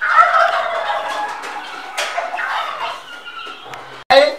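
Turkeys gobbling among other ornamental farm birds calling at a bird farm in Naivasha, Kenya, a dense, loud chorus of overlapping gobbles and cries with a sharp burst at the end.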